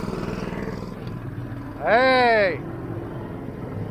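A 212cc engine on a homemade tractor revs up to drive a brush hog through the PTO, a rising roar with a sweeping pitch that swells for about half a second and then settles back to a steady idle; a voice calls out briefly.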